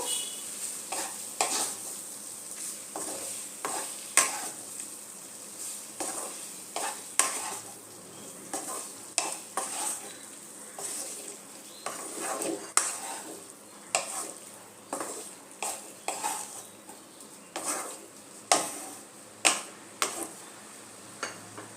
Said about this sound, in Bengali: মশলার সাথে ফুলকপিগুলো ভালো মতো মিশিয়ে নেব।